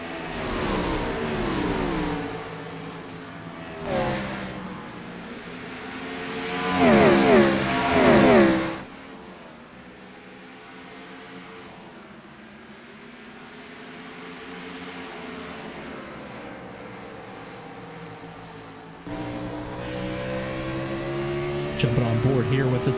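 NASCAR race cars roar around Bristol Motor Speedway in the iRacing simulator, engines rising and falling as they accelerate out of the corners, with race commentators talking over the sound throughout.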